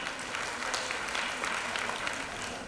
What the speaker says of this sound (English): A huge round of applause for the sari.